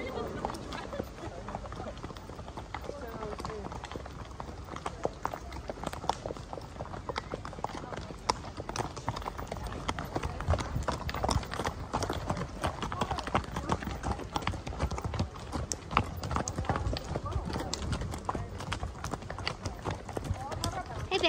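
Horse hooves clip-clop in a steady rhythm through a long horseback ride at a ranch in San Juan del Sur, Nicaragua, while riders chat over the hoofbeats.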